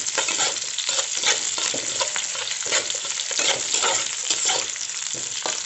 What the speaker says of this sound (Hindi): इसे भी हम 1 मिनट तक फ्राई करेंगे।